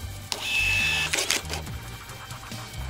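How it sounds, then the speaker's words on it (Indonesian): A thermal receipt printer with an auto cutter, used with a cash register, runs a fast print job. Its whirring feed sounds close, with short mechanical bursts and clicks, and no voices. "dengan teknologi fast print dan juga thermal membuat printer ini semakin cepat untuk mengeprint"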